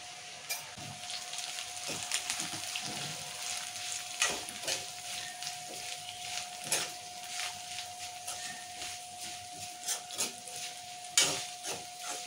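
Tomato and green chilli chutney with turmeric and salt is stirred in a pan, giving a soft continuous sizzle with scattered scraping clicks of the spoon against the pan, close and fairly quiet, with no talking.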